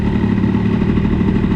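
A boosted Airsal 70cc moped engine drones loud and steady while riding, a dense buzzing exhaust note held at constant revs and close up for a short stretch, with no talk.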